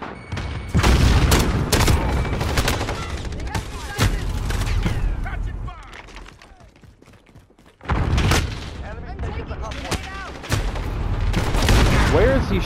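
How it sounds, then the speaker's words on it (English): Video game combat with a thrown grenade's heavy boom and bursts of rapid gunfire, loud and dense, broken by a quieter lull before the shooting resumes; someone talks over parts of it. "Grenade out."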